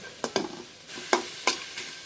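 Carrots, spring onion leaves, capsicum, garlic and ginger stir-frying in a pan, with a few short scraping stirs and soft sizzling bursts close by, no talk.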